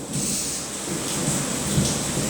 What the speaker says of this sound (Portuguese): Trovão e relâmpago.